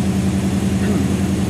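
A 1963 Studebaker GT Hawk Gran Turismo in Regal Red with a largely stock engine idles steadily nearby, a low, even, throbbing rumble with no revving.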